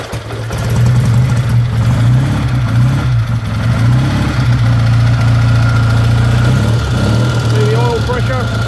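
A 1955 Triumph T100 500cc motorcycle engine idles close by with a steady, loud, low pulsing throb that wavers slightly in rhythm throughout.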